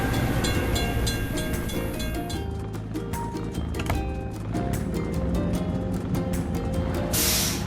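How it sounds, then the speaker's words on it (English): Train rolling past a closed level crossing gate, a steady loud rumble with clattering wheels and a brief hiss near the end, heard alone without talk. "We have to wait for the train to pass."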